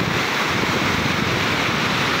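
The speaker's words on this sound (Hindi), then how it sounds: "और पानी का आवाज़ भी बहुत है, मतलब शोर" Loud, constant rushing of the turbulent Indus River roars without pause, dense and close, with no voices heard.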